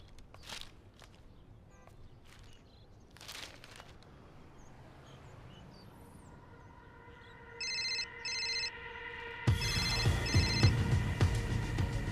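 A telephone rings in short repeated electronic bursts, growing louder, after a stretch of footsteps and quiet household noise.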